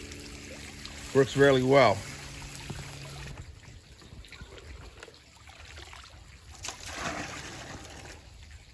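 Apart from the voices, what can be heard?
water pouring into homemade pond filtration system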